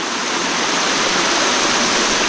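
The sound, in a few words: natural stream water flowing after rain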